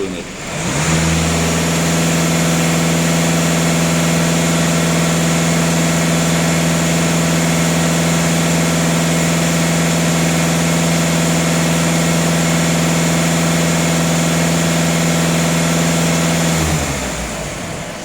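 A warmed-up VW Passat B8 2.0 TDI diesel engine is held at about 2,500 rpm, a loud, steady, close drone that holds for some sixteen seconds before dropping away at the end.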